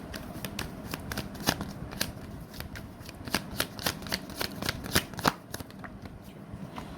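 Tarot cards are shuffled and drawn, giving a rapid run of crisp riffling snaps and slaps that stay close and fairly quiet, with no talking over them.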